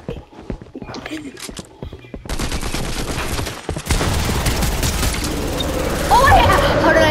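Rapid bursts of gunfire in the video game Fortnite, dense and continuous after a quieter opening, with players talking over the shooting.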